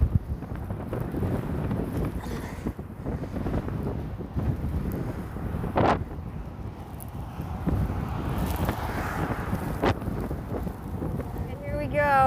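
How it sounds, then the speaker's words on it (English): Strong gusts buffet the microphone on a long, windy bridge across the Outer Banks, making a continuous low, rumbling rush with uneven surges and a few sharp pops throughout. "It's only continued to get windier throughout the day"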